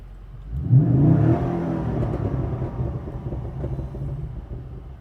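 From inside the cabin, a Holden V8 Commodore engine blips into a quick, loud rev that peaks within a second, then eases back to a lingering low rumble and whir.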